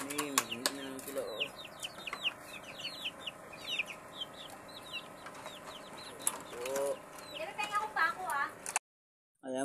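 Chickens cluck and chatter continuously nearby, with ducks calling in a busy, overlapping farm chorus before the sound cuts off abruptly.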